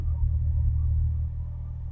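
A 1982 Honda Nighthawk motorcycle engine pulls in third gear with a deep, steady low rumble that eases slightly partway through, heard from on the bike.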